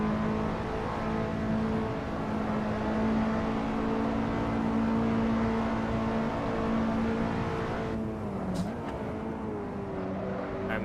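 A race car engine in a racing video game at Road America drones steadily and loud throughout, with a brief rev dip and shifting pitch near the end.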